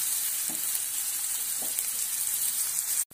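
Onions fry in a pan for Maharashtrian besan pithla, making a steady, even sizzling hiss with a couple of faint stirring touches before the sound cuts off abruptly.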